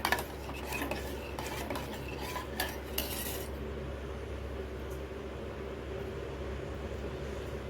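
Spoon scrapes and clinks stir condensed milk and ingredients for a chocolate biscuit cake in a bowl, brisk and close for about three seconds, then stop, leaving a low steady hum.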